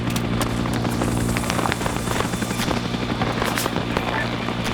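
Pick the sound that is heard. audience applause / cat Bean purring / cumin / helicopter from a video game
helicopter from a video game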